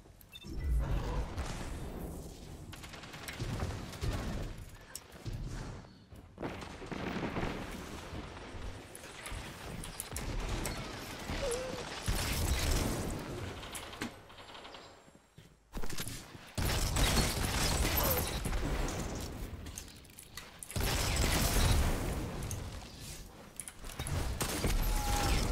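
Grenade launcher fire in Destiny 2 rings out as repeated heavy bursts and explosive booms. Mechanical clatter fills the gaps over a long, busy stretch of gameplay action.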